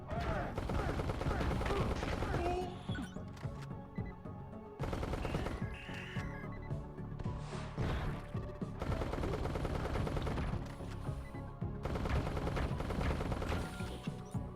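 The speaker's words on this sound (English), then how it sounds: "Submachine gun. A very, very fast firing weapon, but not very accurate." A submachine gun in the top-down shooter Neon Chrome fires in long rapid bursts amid crashes and impacts, with brief pauses between volleys, fairly quiet overall.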